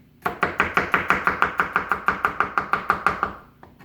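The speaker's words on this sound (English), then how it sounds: "Once I sliced it, then I'll slice sort of julienne the slices." A knife slices garlic on a cutting board in a steady run of about fifteen crisp, evenly spaced chops, close and clear, then stops.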